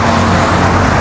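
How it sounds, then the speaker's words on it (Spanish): Cars speed past on a city street, a loud, dense rush of close traffic noise with engine rumble, no talking. "Pasan bien pelados los carros"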